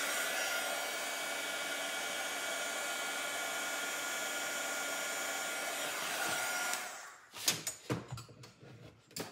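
A heat tool blows hot air to reheat a paint-stick craft barn piece, a steady loud whooshing hiss that cuts off after about seven seconds, followed by a few wooden knocks and handling clatter.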